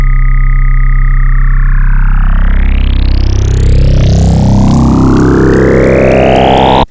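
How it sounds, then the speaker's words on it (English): A Serum synth patch frequency-modulates a sine wave with another sine, ramping steadily so the tone sweeps into a dense, buzzing, metallic growl that rises in pitch, loud and continuous throughout. "if you just take a sine wave or the sine wave looking thing that I made in this table up here and you FM it with just a regular sine wave"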